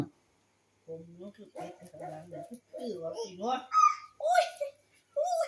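A dog gives short barks and whimpers close by, broken into uneven bursts and mixed with the high, babbling voice of a young child in a quiet room.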